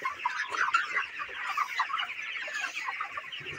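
Thirty-day-old broiler chickens in a poultry shed cluck and murmur continuously, a dense busy chorus of overlapping soft calls from many birds close by, with no talking.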